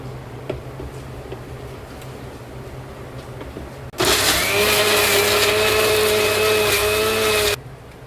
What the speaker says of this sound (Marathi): त्या आपण आता मिक्सरमध्ये पेस्ट करणार आहोत.